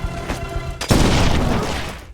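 In a film scene, a buried landmine detonates after a stone is thrown onto it. A sudden heavy blast follows a short quieter stretch, then a long rolling rumble fades slowly.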